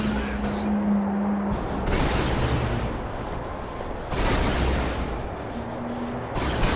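Zone troopers open fire on a damaged building in the Command & Conquer 3: Tiberium Wars real-time strategy game, with dense, sustained volleys of weapon fire and impacts that stay loud and continuous, separated by a couple of brief lulls.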